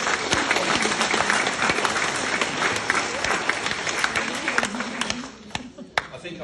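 Audience at a speech in Australia clapping steadily, a dense wash of many hands with sharp individual claps and cheers, fading near the end into a few scattered claps.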